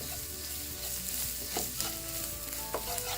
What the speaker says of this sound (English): Again, stir it on low flame.